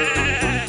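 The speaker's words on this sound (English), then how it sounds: "Some sheep have wandered off from the farm." Sheep bleat loudly in the Thomas and Friends: Magical Tracks video game, a single sustained, wavering cry filling the short moment on its own.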